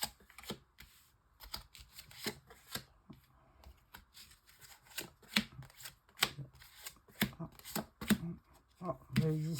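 Oracle cards shuffled by hand for a six-card reading, close and fairly quiet, with irregular riffles, slaps and taps of the deck growing sharper toward the end.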